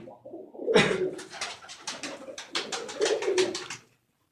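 Several Ranjha Barsal pigeons cooing close by, soft throaty burbles repeating in a steady rhythm with no talking.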